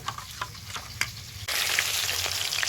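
Pieces of rohu fish fry in oil, starting with faint scattered pops before a loud, steady sizzle suddenly rushes in close by and holds.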